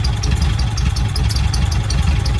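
A VW Bay campervan engine idles steadily up close, a low continuous rumble with a slightly uneven mechanical pulse and no talking.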